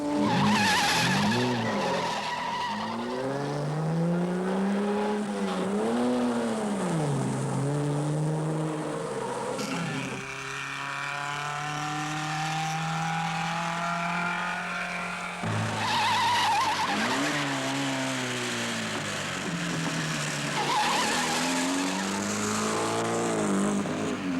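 Rally cars race and skid through Alpine mountain roads during the Coupe des Alpes, with engines revving up and down in loud continuous sweeps and tires squealing through the bends.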